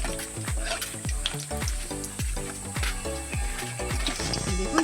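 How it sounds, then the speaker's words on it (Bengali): Pumpkin leaf rolls fry in hot oil with a steady close sizzle and crackle, and a utensil occasionally stirs or scrapes the pan. No one speaks. "এইভাবে আমি সবগুলো ভেজে নেব।"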